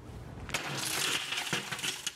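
An uncoated glass pane is struck and smashes in a safety test, a loud crash followed by a long spray of tinkling, shattering fragments that rings on for about two seconds, with a second burst of breaking partway through.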